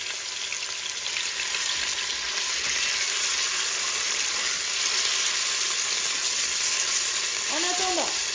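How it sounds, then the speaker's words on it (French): Pieces of meat browning in olive oil inside a Cookeo multicooker give a steady, loud sizzle and crackle throughout, with a short metallic scrape near the end. "je viens rajouter mes morceaux de viande et on va faire rissoler notre viande"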